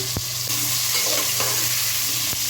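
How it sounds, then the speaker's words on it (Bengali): Potatoes seasoned with a little turmeric frying in hot oil, a steady, loud, close sizzle with a couple of brief knocks or stirs. "তেলটা গরম হয়ে গেছে। এবার আমি আস্তে করে আলুটা ছেড়ে দেবো।"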